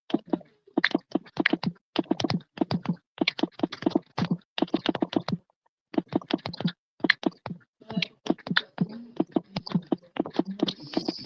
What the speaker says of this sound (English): Who the hell typing that damn fast?